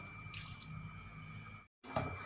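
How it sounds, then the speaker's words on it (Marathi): About half a bowl of water is poured into a pressure cooker of carrots for gajar halwa, giving soft, close splashing and dripping sounds with a brief silent gap. "आता या ठिकाणी कुकर घेतलेले आहे मी आणि थोडंसं पाणी टाकायचं"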